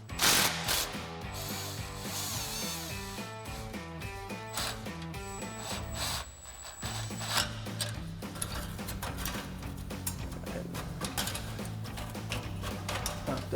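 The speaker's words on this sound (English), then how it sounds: "grab our 13 mil socket on our impact, loosen up this clamp" Impact wrench fitted with a 13 mm socket loosening an exhaust clamp on a GMC Sierra 1500, rapid hammering bursts that start and stop over a mechanical clatter, close by.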